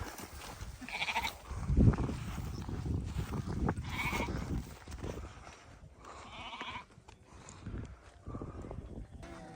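A lamb separated from its mother bleats repeatedly and loudly amid a flock of sheep in the foothills of Mount Ağrı, its calls rising over rustling, shuffling livestock noise.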